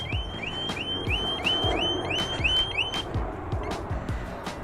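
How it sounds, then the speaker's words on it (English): A motorcycle alarm sounds nearby in a rapid repeating pattern of chirping, upward-sweeping electronic tones over faint background noise, with no voices. "Well, the alarm works."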